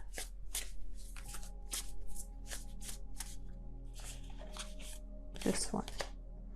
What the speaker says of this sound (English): I don't know what's going on with my shuffling right now.